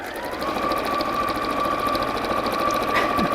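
A sewing machine stitches a pleated bag with a continuous fast mechanical whirr and rapid needle ticking, close and steady throughout, with no talking.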